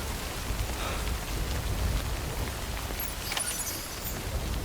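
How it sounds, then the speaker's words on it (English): Heavy rain pours down steadily in the Death Stranding video game, a dense continuous hiss with faint rumbling underneath, no voices over it. "I hope you can hear me over the heavy rain"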